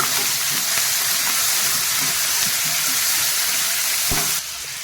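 Chopped onion and tomato frying in hot oil, a steady loud sizzle that holds evenly throughout before dropping off abruptly near the end.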